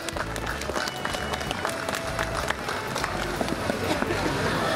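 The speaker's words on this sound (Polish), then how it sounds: "brawa, gorące brawa dla sponsorów" Warm crowd applause at a charity fundraising finale event in Otwocku, honoring sponsors; dense, continuous clapping from many people fills the whole stretch at an even, full level, with faint voices mixed in.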